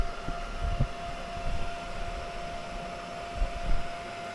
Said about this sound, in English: So I start the weld on the new metal and work it over to the old metal, and then just pulse weld it.